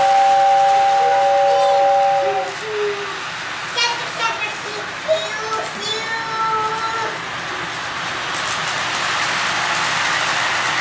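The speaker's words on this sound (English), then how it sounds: "Watch it make steam, Andy." A toy train lets off steam with a short whistle-like tone, followed by hissing, bursts of chatter and a steady rushing hiss, while a child and an adult talk nearby.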